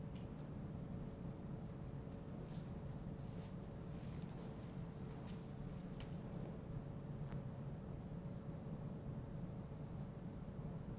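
A dermaplaning blade scrapes facial skin in soft, continuous fine scratching strokes, faint and steady against a low background hum, with no talking.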